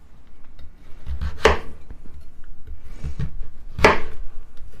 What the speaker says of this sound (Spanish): vamos a pasar a cortarla en cubitos medianos